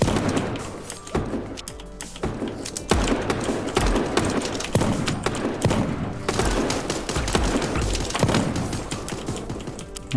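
Rapid bursts of AK rifle fire in a shooter video game, loud, dense cracks and thuds repeating throughout without pause.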